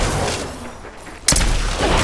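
Gunfire in the video game Apex Legends, with scattered shots early on, then a sharp, loud burst partway through that stays dense and noisy to the end.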